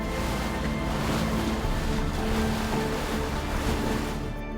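A boat sails the open sea around an island near Pileh Lagoon in Thailand, with steady broadband rush of waves, water and wind noise on the microphone continuing throughout, loud and close, with no talking.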